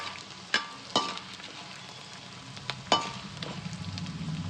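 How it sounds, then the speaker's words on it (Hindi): Gond (edible gum) frying in hot ghee, a soft steady crackle and bubbling with a few sharp clicks as pieces drop in, close and fairly quiet. "अब मैं थोड़ा थोड़ा करके इसमें गोंद फ्राई करूँगी"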